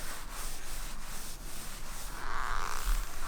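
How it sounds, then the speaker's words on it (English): Hands rubbing fine topdressing sand into lawn grass, a steady soft scratchy brushing that grows slightly louder toward the end, close by with no talking. "I rub it like that and it drops down on the soil surface anyway"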